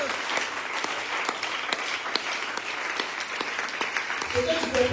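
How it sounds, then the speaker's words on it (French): A church congregation at a Sunday praise-and-worship service applauds Jesus with sustained, crowded clapping, some voices rising beneath it and a cheer swelling near the end. "Est-ce que tu peux acclamer Jésus?"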